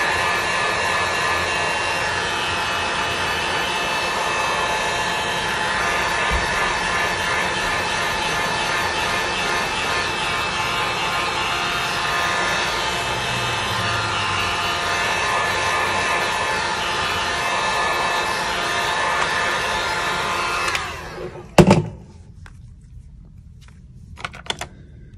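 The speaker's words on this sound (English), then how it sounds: "For that we need a heat gun to heat it up the bag a little bit." A heat gun's loud, steady blowing roar runs continuously as it heats a phone's back, then cuts off abruptly and is followed by a few sharp clicks and knocks.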